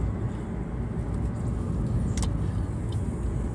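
A 2012 Suzuki SX4 cruises in sixth gear at about 80 km/h and 2000 rpm, giving a steady low cabin rumble with road and wind noise and a couple of faint high clicks.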